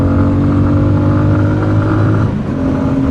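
A new Bajaj Pulsar 250 motorcycle accelerates hard on a straight road, its engine note a loud, dense, continuous drone close to the rider, with a slight shift near the end as it climbs through the gears.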